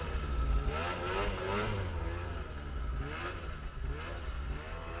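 A snowmobile engine revs hard under full throttle, loud and close, its pitch rising and falling in surges across the whole stretch, with no talk over it.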